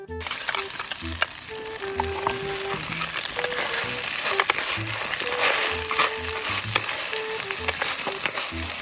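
Agihis and litog being sautéed with onion, garlic and ginger in a pan, steady loud sizzling and frying with stirring and scraping throughout, close up with no talk.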